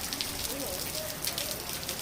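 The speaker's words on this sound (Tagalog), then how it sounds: "Tapos bigla namang lumakas ang ulan." Heavy rain pouring steadily during a flood, with a dense hiss of drops, while faint voices can be heard under the downpour.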